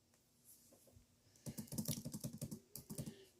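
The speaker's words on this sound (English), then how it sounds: "I'm going to type -6 in here." Typing on a computer keyboard during a polynomial division lesson: a quiet tap or two, then a quick run of dense, close keystrokes with a short pause before a final burst, no talk.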